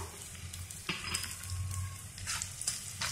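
Half-crushed garlic frying with onions browned to a reddish color, a close, continuous sizzle with a low bubbling hum and a few scraping stirs, no voices.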